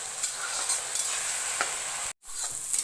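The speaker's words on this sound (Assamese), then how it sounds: "এইখিনি এতিয়া মই আদা নহৰু কেঁচা গোন্ধটো যোৱালৈকে ভাজি থাকিম" Ginger garlic paste fries in a pan for mutton curry, a steady close sizzle with stirring scrapes and a brief drop-out near the end, no talking.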